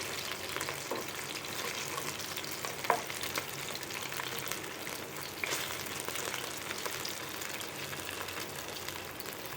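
Chicken 65 pieces frying in hot oil, a steady close crackling sizzle with occasional louder pops and stirring noises throughout.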